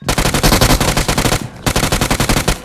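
Rapid bursts of automatic gunfire from a mobile shooter game played on an iPhone 11, loud and continuous with a brief pause partway through, no talk over it.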